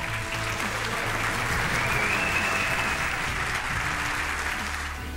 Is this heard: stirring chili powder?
no